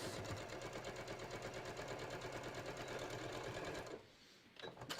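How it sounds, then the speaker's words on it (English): A sewing machine runs steadily, stitching the waistband of a pair of shorts, its rapid mechanical chatter continuous and close for about four seconds before stopping abruptly, followed by a few faint handling noises. "I am going to just sew this"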